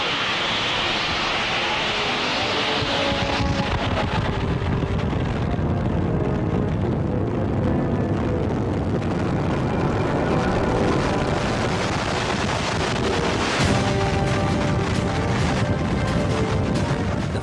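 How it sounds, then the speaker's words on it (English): A fierce storm wind roaring around a bridge, a loud, unbroken wall of rushing noise with a heavy low rumble that swells slightly as it goes on. "Fierce wind claws at the terrified group huddled under the bridge"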